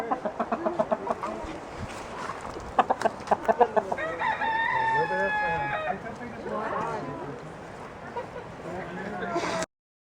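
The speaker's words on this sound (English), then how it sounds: "Hello, chicken." Chickens cluck in sharp, rhythmic bursts near at hand while a rooster crows once in a long, bright call partway through, on a road trip visit to the Okefenokee Swamp area, with people talking over the birds.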